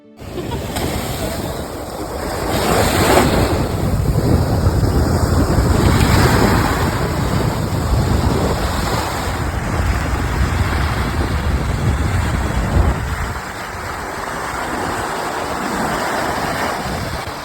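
Sea waves wash steadily onto a beach at a Phu Quoc resort in Vietnam, a continuous broad surf roar with swells and ebbs, mixed with wind buffeting the microphone and no voices.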